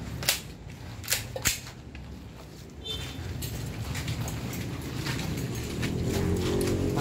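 Sharp gunshot reports from a 2011 Elite pistol at an outdoor firing session, two or three loud cracks early on spaced about a second apart, followed by steady wind and background noise.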